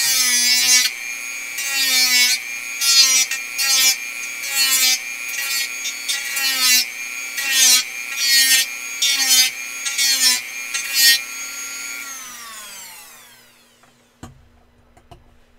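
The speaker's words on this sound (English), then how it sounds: "Dremel incoming, so those of you with headphones might want to turn down just a little bit" Dremel rotary tool grinding a 3D-printed flared magwell in loud, rhythmic high-pitched whining passes that repeat for about twelve seconds, then winding down as the motor spins to a stop.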